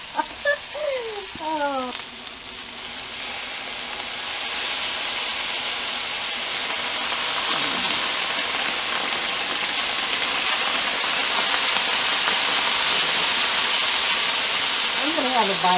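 An egg frying in a pan for breakfast gives a steady, dense sizzle that swells and holds close by, with a brief spoken exclamation and a little talk near the start.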